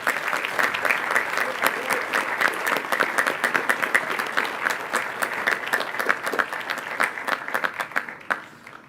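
Applause from the audience at a Grade 8 class day ceremony, a dense and steady clapping of many hands that holds for about eight seconds before thinning and stopping.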